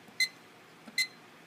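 Two short, clear electronic beeps from a kitchen timer being set for baking muffins, spaced about a second apart, with no talk over them.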